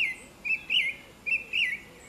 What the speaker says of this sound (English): Usually it's the blackbird that makes its song at this time of the evening.